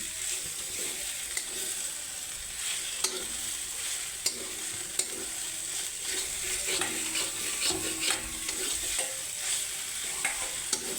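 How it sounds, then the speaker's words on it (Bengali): Radish and soybean curry cooking in a pan, stirred at intervals: a low steady sizzle with repeated sharp clinks and scrapes of a spoon against the pan, close by. "তো এখন কিন্তু কিছুক্ষণ পর পর হয়ে নাড়িয়ে যেতে হবে না হলে নিচে লেগে যাবে"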